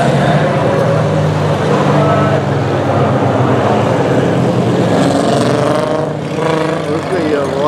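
Monster truck engines roar loudly and continuously while racing at Southern National Motorsports Park, a dense, steady mechanical drone with a voice talking over it.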